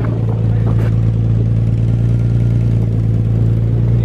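Infiniti G35 engine running steadily after starting, a strong low idle rumble with constant drone throughout, close and loud, a cooling fan spinning.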